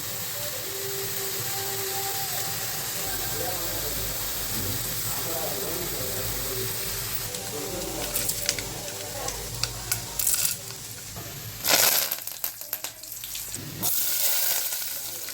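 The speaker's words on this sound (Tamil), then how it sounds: "இப்போது குழம்பு தாளித்து விட்டுக்கலாம். நல்லெண்ணெய் ஊற்றிக்கிறேன்." Sesame oil heating for tempering a curry, with a continuous close sizzle and stirring, then louder spitting bursts and scraping toward the end.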